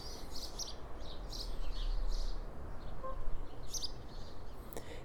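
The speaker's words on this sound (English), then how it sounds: "The air is full of the sound of birdsong." Morning birdsong fills the outdoor air of a garden, with several birds chirping and calling at varying distances over a steady low background rumble, one sharper call standing out near the end.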